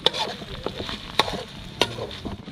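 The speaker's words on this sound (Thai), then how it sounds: "เราผัดพริกแกงทำท่าจะไหม้ฮะ" Curry paste being stir-fried in a hot pan while preparing spicy stir-fried barking deer, steady sizzling with sharp scraping strokes of a spatula at a few distinct moments, close and clear with no talking.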